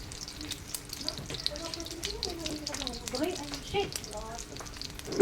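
Tikoy frying in a pan, a soft, close sizzle with light crackles and a few scraping clinks, fairly quiet, with faint background chatter.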